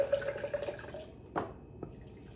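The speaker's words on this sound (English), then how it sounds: "Gonna add a little bit of water." A little water is poured briefly into a homemade cockatoo food mixture of coconut oil and millet, a soft trickling splash followed by a couple of quiet drips.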